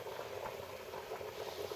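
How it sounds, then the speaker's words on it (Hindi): Water comes to a rolling boil in a cooking pot for chicken neck pulao, a steady bubbling churn with soft pops, close and moderately quiet, with no talking. "बॉयल आ गया"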